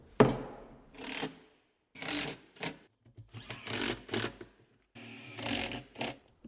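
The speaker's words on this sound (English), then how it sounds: "So we'll screw this in from the inside" A power driver running screws into a bracket on a Harbor Freight miter saw stand, several bursts of whirring and ratcheting separated by short pauses, close and fairly loud, with no speech.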